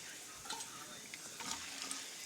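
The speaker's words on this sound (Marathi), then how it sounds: "शेंगदाणे छान भाजून झाले की त्यामध्ये एक चमचा जिरं नंतर एक चमचा मोहरी" Cumin and mustard seeds crackle in hot oil in a pan with roasted peanuts, a soft steady sizzle with scattered faint pops and a light stir, fairly quiet and close.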